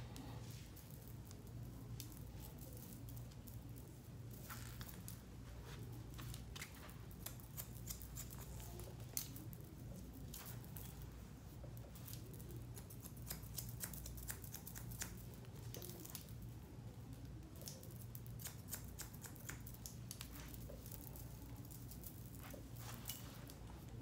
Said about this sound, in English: I'm also going to use my texturizing shears.